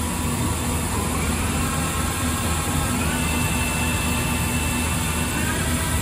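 A Mazak Nexus 510C machining center from 2006 runs its spindle at 2,000 RPM, giving a loud, steady whine and roar that holds constant throughout with no talk over it.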